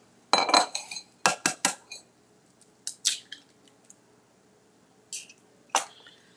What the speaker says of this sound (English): let's beat the egg